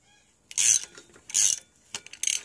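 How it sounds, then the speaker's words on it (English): An adapted puller is screwed into a crankcase splitter tool, making three or four short, bright metallic ratcheting bursts close up, separated by near silence. "And now I'm adapting it for this particular crankcase tool. So it seems to screw in here."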